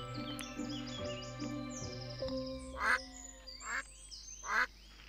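A yellow duck in the video game Equilinox gives several quacks, close and clear, over game music and soft chirping tones.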